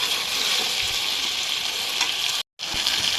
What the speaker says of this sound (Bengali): মুরগিগুলো ভাজাও হয়ে গিয়েছে